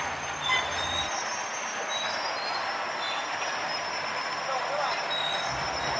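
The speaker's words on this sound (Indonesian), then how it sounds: "Karena kereta lorinya ini berjalan sangat pelan" A sugarcane lorry train rolls slowly along the rails at night near a level crossing, its wheels giving steady, high-pitched squeals and a continuous grinding rumble that stays close and fairly loud throughout, with faint talk underneath.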